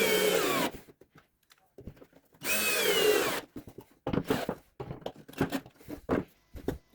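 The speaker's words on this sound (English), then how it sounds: "Assembling this jig, you will need a drill and some screws." A power drill drives screws into a wooden jig for hanging cabinet doors: two short whirring bursts separated by a pause, followed by a scatter of close clicks and knocks from handling the wood.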